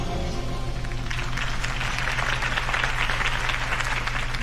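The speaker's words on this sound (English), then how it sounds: "If only Mr. Wayne, my campaign's largest backer, could have heard that applause" A crowd applauds after a campaign speech in a Telltale Batman video game, sustained dense clapping over a low steady hum, continuous throughout.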